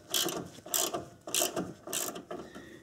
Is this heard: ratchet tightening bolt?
yes